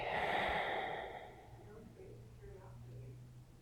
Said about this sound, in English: Inhale deeply. Exhale completely.